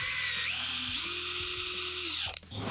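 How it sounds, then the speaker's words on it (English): Cordless power drill boring holes into a wooden raised bed box, a loud steady whine rising in pitch as the bit bites, then cutting off abruptly near the end. "you can easily tip the box and drill the final 2 holes"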